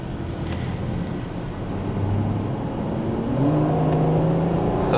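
A four-door V12 supercar drives along in its normal mode, its engine note gradually rising and swelling as it pulls away, a smooth continuous drone heard from inside or close by, with no speech.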